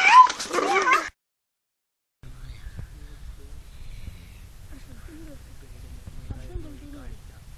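A cat lets out one loud, close meow, then after a brief silence softer mewing drifts over a low background rumble.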